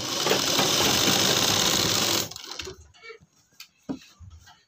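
A sewing machine runs fast and steady for about two seconds while stitching elastic into a pajama waistband, then stops, followed by faint handling clicks and fabric rustles.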